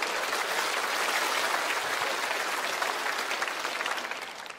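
A stand-up comedy audience bursts into sustained applause, dense steady clapping that fills the room at even loudness for several seconds before easing slightly at the end, with no voices over it.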